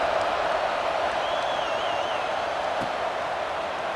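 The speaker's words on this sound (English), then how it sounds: "this crowd is buzzing after that last score" Steady broadband crowd murmur fills a college football stadium after a scoring drive, a continuous buzzing roar with a faint whistle-like tone gliding through it.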